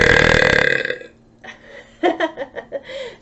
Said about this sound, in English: I'm extremely confident in my burps